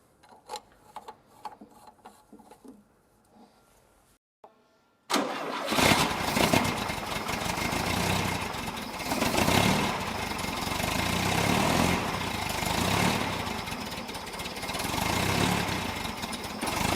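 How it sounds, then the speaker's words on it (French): Volkswagen Beetle engine during an oil service, several cranking bursts and then a quiet pause before it catches and settles into a loud, steady, slightly uneven idle that runs on for over ten seconds. "on va démarrer le moteur pour aller remplir le filtre à huile"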